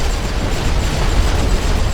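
Gas shells bursting over the trenches of a WW1 Western Front strategy game make a dense, steady wall of deep rumbling booms. The overlapping blasts blur into one continuous roar with no pauses.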